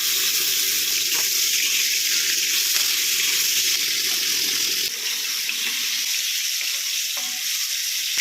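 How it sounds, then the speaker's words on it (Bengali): Steady, close hiss of prawns frying in white oil in a wok, a dense crackling sizzle running throughout with a few soft clicks and a slight drop in intensity partway. "কড়াইতে সাদা তেল দিয়ে প্রথমে চিংড়ি মাছগুলোকে ভেজে নেব"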